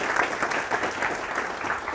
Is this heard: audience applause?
yes